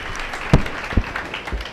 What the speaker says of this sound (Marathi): त्यांच्यासाठी पुन्हा एकदा टाळ्या वाजवा सगळ्यांनी